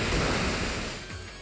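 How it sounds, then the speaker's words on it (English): Rushing, splashing water effect from the Waterfall move in the Pokémon X video game, a dense steady wash of noise that stays loud and fades slightly toward the end. "I'm going to go Waterfall right now, and see what happens."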